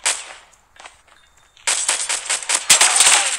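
Sharp gunshots in the mobile video game Call of Duty Mobile, a few scattered cracks followed by a rapid, loud burst of automatic fire with snappy, crackling reports.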